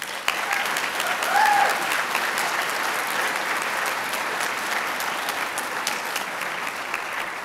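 Commencement audience at a community college spring ceremony breaks into sustained applause, a dense, loud wash of many hands clapping evenly throughout, with a faint whoop or cheer rising briefly early on.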